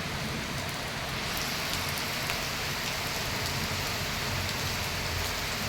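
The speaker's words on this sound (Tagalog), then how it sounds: "sana tuloy-tuloy yung buhos ng ulan niya na malakas" Heavy rain pouring down in a dense, steady wash of noise, loud and constant throughout with no pauses and no voices.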